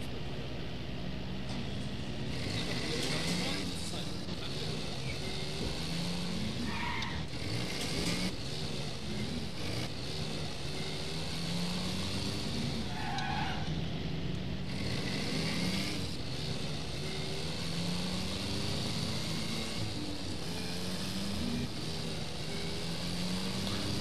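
A car engine drones steadily in The Saboteur on PC, the motor revving and shifting pitch continuously at close range with occasional brief clunks and road noise throughout.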